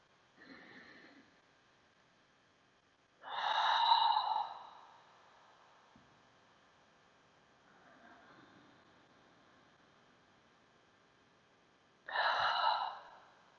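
A person breathing deeply during a resting pose, drawing air in through the nose and letting it out in sighing exhales: three separate breathy bursts, the middle and last loudest, with quiet gaps between.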